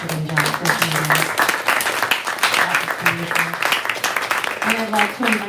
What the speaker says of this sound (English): Let's give one more round of applause for Richard and John for joining us.